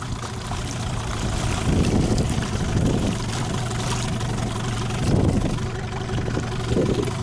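Two 9.9 horsepower outboard motors, a Suzuki and a Yamaha, idle in neutral side by side on the water, a steady close mid-pitched burble with slight rhythmic swells and no talk over it.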